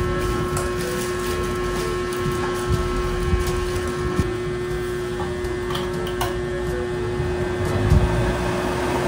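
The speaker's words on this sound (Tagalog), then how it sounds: "Ayan na po yung electric fan." A newly plugged-in electric fan runs with a steady whirring hum and a constant high motor tone, loud and close, with faint clicks and handling sounds, no talking.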